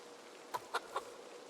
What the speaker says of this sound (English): let me go pet the big boy chicken.